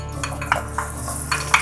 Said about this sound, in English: Frying the onions, I am going to pull the ribs.